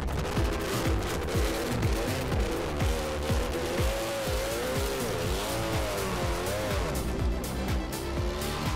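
A race car driven hard with aggressive braking, its engine revving loudly and continuously with rising and falling pitch sweeps, tire squeal and rough road noise close by throughout, no talking.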